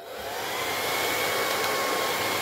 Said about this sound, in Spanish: Tienen que tener un secador de pelo para poder trabajar con un PVC